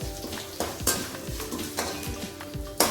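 Curry leaves fry in a pan for gooseberry rice, giving a close, steady oil sizzle broken by sharp scraping and clinking as a spoon stirs against the pan.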